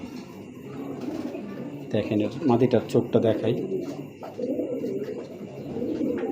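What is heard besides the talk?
racing pigeon cooing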